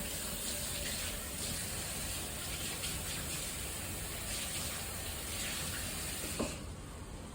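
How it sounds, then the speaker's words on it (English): Water gushes steadily from a kitchen tap while hands are washed during chili preparation, a continuous broadband rush that stops abruptly near the end. "Wash my hands again."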